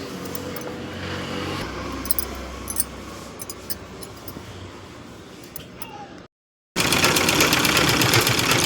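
A sewing machine stitching a blouse runs in a fast, steady mechanical whir with light rattling, continuous for about six seconds, then a brief cut to silence and a louder burst of machine noise.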